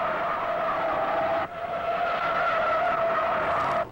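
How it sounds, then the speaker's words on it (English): A Chevelle stock car spins out in the second turn at the 1968 American 500. Its tires skid in a loud, sustained squeal over the roar of engines, continuous for about four seconds with a brief dip midway. "Hey, another spinner in the second turn."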